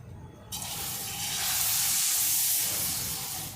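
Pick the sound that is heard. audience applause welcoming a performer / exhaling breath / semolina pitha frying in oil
semolina pitha frying in oil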